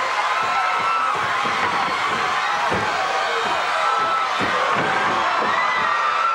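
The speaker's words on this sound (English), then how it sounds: "Junkyard Dog bringing this crowd to its feet." A packed wrestling arena crowd roars and cheers continuously at full volume, with shouts and whoops rising above the steady wall of noise and occasional thuds from the ring.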